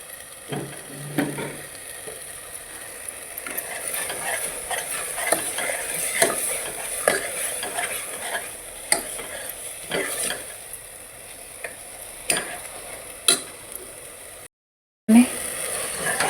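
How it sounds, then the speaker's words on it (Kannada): Masala frying in a pan gives a steady close sizzle, broken by frequent scraping stirs and light utensil clinks, with a brief dropout near the end. "ಎಲ್ಲ ಸ್ವಲ್ಪ ಚೆನ್ನಾಗಿ ಫ್ರೈ ಆಗಿದೆ ಮಸಾಲ"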